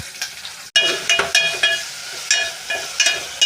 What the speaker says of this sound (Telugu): ఉల్లిగడ్డలు ఫ్రై అవుతున్నాయి.